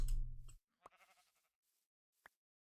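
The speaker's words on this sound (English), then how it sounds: "There is a sheep around!" Sheep bleats in the Minecraft video game: one loud bleat at the start, then a couple of short, fainter bleats and clicks trailing off into near silence, with no talking.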